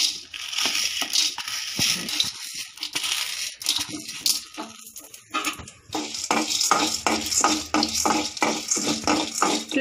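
Toor dal roasting in a spoonful of oil in a pan, with rhythmic scraping and crunchy stirring strokes over a dry, crackling fry, loud and close.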